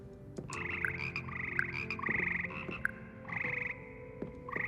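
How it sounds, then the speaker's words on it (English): The magical frogs of the Frog Choir in the video game Hogwarts Legacy croak together in a steady chorus of repeated, pitched croaks with short pauses. The sound is fairly close and there is no talking over it. "Here perch the slimy yet symphonic frogs that comprise the Hogwarts Frog Choir."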